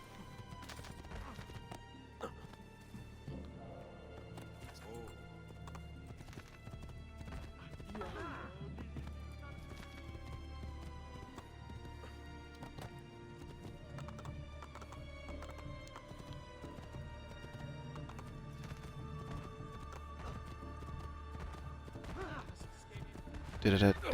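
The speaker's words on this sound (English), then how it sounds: "Ah, good horse." Hooves clip-clop rhythmically as a horse gallops through a city in an Assassin's Creed video game featuring Ezio, mid-level under music, with a neigh and a crashing stumble as the horse trips near the end.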